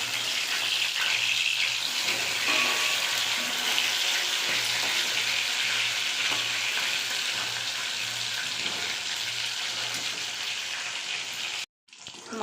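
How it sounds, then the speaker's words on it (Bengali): Fish frying in a pan for a Bengali fish curry with ridge gourd: a steady, dense sizzle running almost continuously without talk, before cutting off abruptly near the end. "মাছ ভাজা হয়ে গেছে,"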